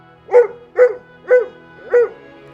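Four evenly spaced dog barks, bright and clear, form a sound effect in an animated French children's story reading about a happy dog dancing in a flowery garden; nothing else is heard.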